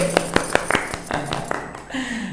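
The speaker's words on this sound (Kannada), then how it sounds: "ಸೊ ಚಪ್ಪಾಳೆ ಸಿಂಧು ಅವ್ರಿಗೆ" Scattered applause from a small studio audience at a Mysuru daughters-in-law game show, a handful of sharp claps that quickly fade.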